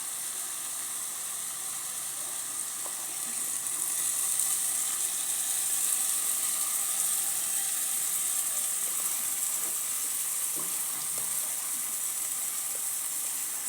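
Bread kothu fries in a pan after milk is poured in, a constant hissing sizzle that swells a little after the first few seconds, with faint clicks of stirring and no speech.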